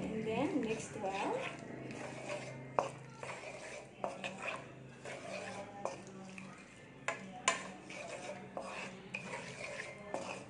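Sweet and sour sauce of vinegar, pineapple and tidbits syrup being stirred in a pot, with scraping, clinking spoon strokes that keep up under steady nearby talk.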